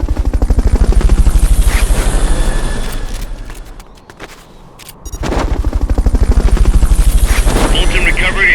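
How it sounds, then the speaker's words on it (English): A helicopter from the video game Metal Gear Solid Peace Walker, used for Fulton recovery, thumps loudly with fast, rhythmic rotor chopping that fades briefly midway and then returns at full strength. "Fulton recovery helicopter is complete."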